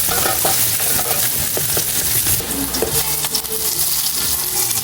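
Garlic, onion and ginger sauté in hot oil for a salmon-head sinigang in miso, giving a dense, steady sizzle with scattered clinks and scrapes of stirring throughout, no voices.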